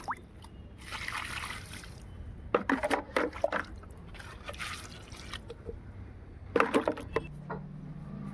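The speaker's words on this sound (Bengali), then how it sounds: "এই যে গাছগুলোতে জল দিয়ে নিচ্ছি" Water is poured onto potted plants on a rooftop, with soft trickling, splashing and dripping coming in uneven bursts close by against faint background noise.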